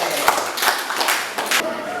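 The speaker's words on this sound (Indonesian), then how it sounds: "Tepuk tangan." A handful of sharp claps, about four, in quick succession over a background murmur of voices in a classroom.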